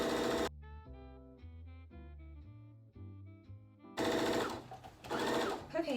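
A sewing machine stitches around the top of a drawstring bag in several short, rhythmic runs with pauses between them, close and clear, followed by louder rustling and handling of fabric.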